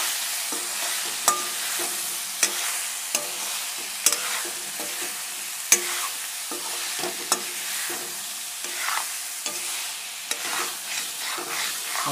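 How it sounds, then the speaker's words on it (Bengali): Boiled potatoes and spice paste being stir-fried in a pan, a steady sizzle broken by regular scraping strokes of a spatula every second or so, close and without speech. "এখন আরেকটু কষাবো"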